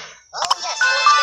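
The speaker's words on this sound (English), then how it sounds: "But my phone's going crazy." A phone's ringtone chimes in steady melodic tones, with a short burst of talking breaking in early before the ringing carries on alone.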